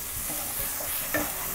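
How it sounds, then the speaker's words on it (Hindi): Dal makhani spices fry in ghee over a low flame, a brief close sizzle with soft scraping strokes of a spoon stirring through the pan and no voices. "अब हमें इसे 2 से 3 मिनट के लिए लो फ्लेम पे भून लेना है"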